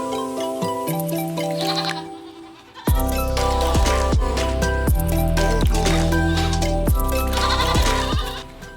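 Goats bleating nearby on a small farm, with a few short and drawn-out calls in a row, loud and close, over a steady wet, squelching background.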